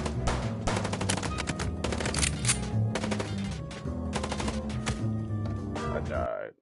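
Rapid bursts of gunshots in Chicken Police: Paint It Red crackle in close succession, loud and dense for several seconds before cutting off abruptly, with talking mixed in.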